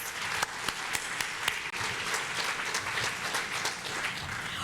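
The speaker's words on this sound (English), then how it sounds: "Let's give them a great round of applause." An audience at a mayoral candidate dialogue in Surrey gives a sustained round of applause, dense, even clapping at moderate distance that continues steadily throughout.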